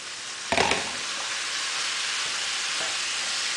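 Tilapia and shrimp hitting a hot pan for a Jamaican-style seafood dish: a steady, loud broadband sizzle fills the whole clip, with a brief burst as the seafood drops in near the start.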